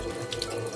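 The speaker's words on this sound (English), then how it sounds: "I'm gonna rinse this." Tap water runs steadily into a sink while blue crab pieces are rinsed, a brief, fairly quiet splashing stream with no voices.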